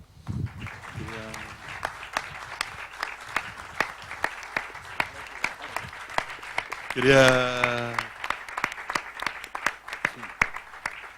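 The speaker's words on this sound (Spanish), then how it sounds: "Un aplauso." Sparse, scattered clapping from a small audience at a tribute event for Nicanor Parra, with individual claps distinct and fairly close. Brief voices and a singing or shouting voice rise over it partway through.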